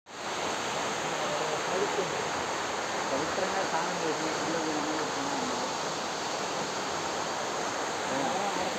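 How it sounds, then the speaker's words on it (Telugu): Waterfall flowing in a dense forest at Rapuru, a continuous broadband rush of falling water that stays loud and steady throughout, with no other sounds standing out. "వినిపిస్తుంది వాటర్ సౌండ్ అయితే ఫ్రెండ్స్ మేమైతే కరెక్ట్ అయితే రీచ్ అయిపోయాం"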